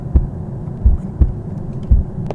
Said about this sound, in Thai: เสียงหัวใจเต้นเฉยๆ หรือเปล่านะ